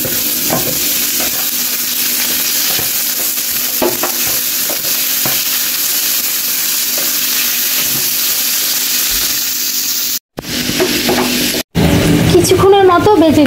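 Capsicum fries in a pan with chopped garlic for a tofu roll, making a loud, close, continuous sizzle broken by stirring scrapes, two short cuts near the end and a voice at the close.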